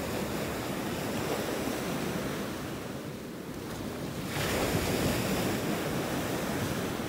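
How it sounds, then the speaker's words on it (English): Ocean waves pound the shore at Delnor-Wiggins beach in North Naples, Florida, a continuous loud roar of surf that eases briefly midway and then surges back stronger, with wind buffeting the microphone and no voices. "Boy, these waves are really pounding on the shore up here."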